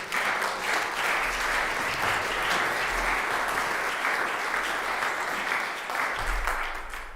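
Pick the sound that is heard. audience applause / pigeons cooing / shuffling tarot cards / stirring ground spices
audience applause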